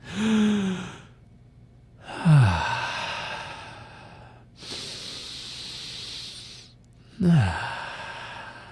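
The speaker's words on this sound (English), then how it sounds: "So I'll take a deep breath and show you what happens." A person breathes in and out slowly and audibly up close, with a few long sighing exhales and one steady hissing breath. The breaths are separated by short pauses and no words are spoken.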